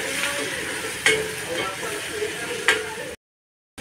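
Turmeric tipped into hot oil in a pan while cooking a Maharashtrian ridge gourd dish, giving a steady close sizzle with two brief louder hisses as the spice hits, then silence before a sudden return of sound at the end.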